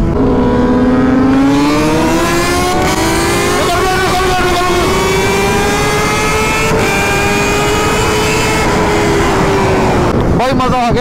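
A Suzuki Hayabusa and a Kawasaki Ninja ZX-10R race side by side in Ladakh, engines droning loud and close with rising, sustained revving over about ten seconds before a sharp change near the end.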